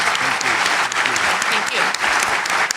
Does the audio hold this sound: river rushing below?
no